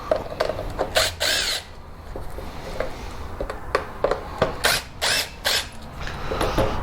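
Phillips head screws backed out of an HID ballast on a Lexus IS300 headlight housing, with quick ratcheting clicks and short mechanical turning bursts repeating close by in several spurts.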